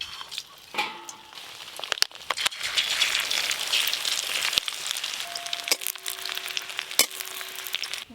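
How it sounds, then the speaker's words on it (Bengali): Chicken jali kebabs fry in hot oil with a close, crackling sizzle, punctuated by sharp clicks and clinks of a utensil against the pan. "এইটা ভাজলেই মাংসের জালি কাবাব সব ভাজা হয়ে যাবে।"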